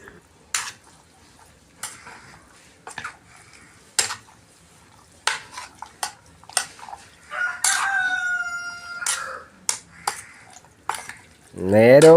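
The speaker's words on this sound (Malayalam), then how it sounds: "നേരവും കാലമൊന്നും നോക്കാതെ കോഴി കിടന്ന് നിലവിളിക്കുന്നുണ്ടല്ലോ." A rooster crows loudly in a rising, strained call around a home kitchen where beef is being cooked, amid sharp clicks and stirring noises, with a second crow starting at the very end.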